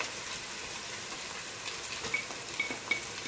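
Ginger garlic paste and onions frying in a pot for chana pulao, a soft steady sizzle with a few faint clinks of stirring near the end, no voices.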